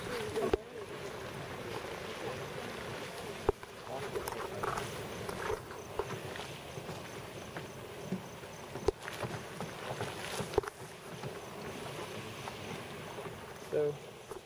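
Hot mud bubbles in a mud pot at Yellowstone's Artists' Paintpots, with soft, irregular pops and gurgles over a steady, quiet, wind-like hiss.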